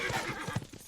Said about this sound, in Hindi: बहुत प्यारा घोड़ा है।